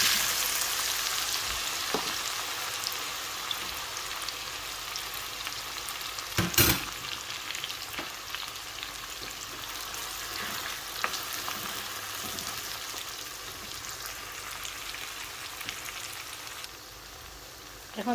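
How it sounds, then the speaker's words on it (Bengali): Hilsa fish frying in hot oil on a stove, a steady crackling sizzle with a brief louder burst partway through, continuing evenly until it fades at the end. "এখন যে তেল রয়েছে ও তেলের মাঝে আমি ফেস ভাজি করিলাম।"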